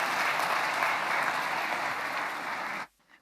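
Concert audience applause at a national holiday event, a full, even wash of clapping that carries steadily before cutting off abruptly near the end.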